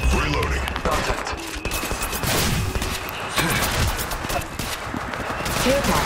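Rapid gunfire in Apex Legends, bursts of automatic shots and sharp cracks repeating close by over a busy game mix, with voice callouts heard in between.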